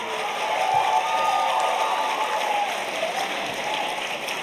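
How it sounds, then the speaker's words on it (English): A crowd at a brass band championship applauds steadily, a dense wash of clapping at moderate loudness that holds throughout without pause. "Don't take up extra time with clapping."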